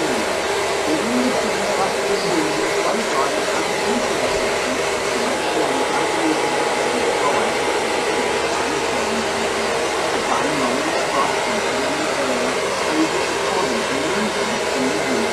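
A hair dryer blows steadily as hair is dried with a round brush, the constant close whir running unbroken with no pauses.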